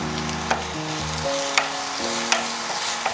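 Onions and roasted mussels frying and being stirred in a pan for a Kerala-style kallummakkaya dry roast, a steady sizzle with a few sharp stirring clicks, under a background of music.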